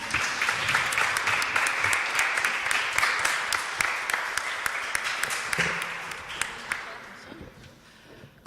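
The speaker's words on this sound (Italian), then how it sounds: "Possiamo fare un applauso al Signore?" Church congregation applauding during an Italian worship service, a dense sustained wash of many hands clapping that fades out near the end.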